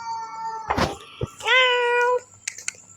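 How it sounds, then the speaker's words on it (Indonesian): A cat meows several times close by in a dark indoor setting, with a long drawn-out clear meow in the middle and shorter chirps and scuffs around it. "Kucing."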